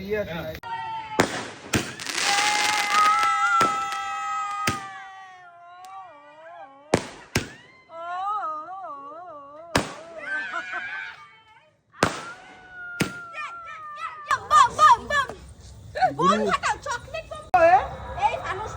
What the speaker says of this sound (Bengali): বাড়িতেই বাজি টাজি ফাটিয়ে মজা করছি।